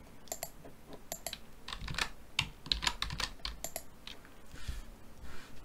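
Rapid keystrokes on a computer keyboard as a command is entered into a Windows command prompt, quiet and close, in irregular bursts of clicks with short pauses between them.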